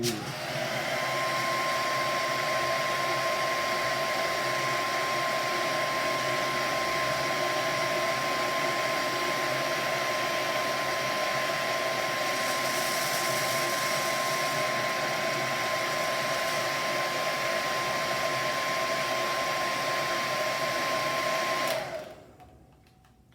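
A hot-air heat tool blows steadily on an acoustic guitar bridge, a Recording King Dirty 30, to loosen the glue; a constant loud whooshing hum with a faint whine runs for about twenty seconds, then cuts off abruptly.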